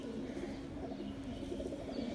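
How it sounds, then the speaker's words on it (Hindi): Low, soft cooing of a China breed pigeon rumbles steadily throughout, close by, with a continuous murmur and no talking. "ये चीना कबूतर है"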